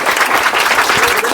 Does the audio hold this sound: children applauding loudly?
yes